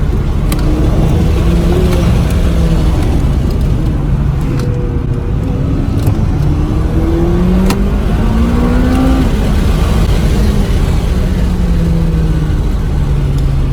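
A loud McLaren MP4-12C engine revs and accelerates hard, its pitch climbing repeatedly through the gears over a constant roar.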